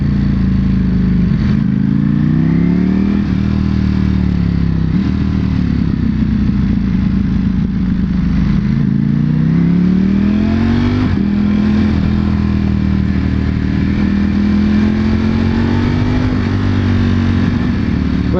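A 2021 Ducati Panigale V4S motorcycle accelerates hard on a test ride, its engine loud and continuous, pitch rising and dropping through repeated gear changes with no voice over it.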